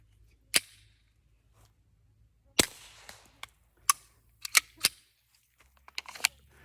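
A Sig P322 pistol firing .22 Short rounds, giving short, sharp, fairly quiet cracks spaced irregularly with gaps of quiet between them, some closely clustered, along with lighter mechanical clicks.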